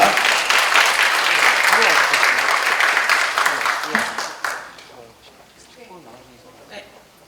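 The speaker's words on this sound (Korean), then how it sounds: "박수 부탁드리겠습니다." Loud, dense applause from a ceremony audience greeting a vocalist from Chile, sustained for about four seconds before fading, followed by a voice speaking quietly.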